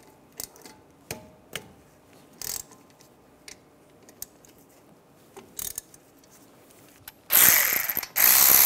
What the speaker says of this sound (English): Use a 10mm socket. Take these two caliper bolts off.